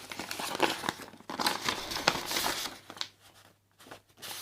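Crinkling and rustling of a paper budget envelope for hygiene money being handled close up, in busy irregular bursts that thin out toward the end, with no talking.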